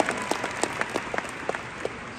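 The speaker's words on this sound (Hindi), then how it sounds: "दोबारा ताली मार दो" Audience applause at a Delhi success-day event, a short burst of scattered, fairly close hand claps from a modest crowd, with no speech over it.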